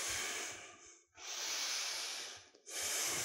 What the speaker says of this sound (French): Inspire en haut et expire, relâche.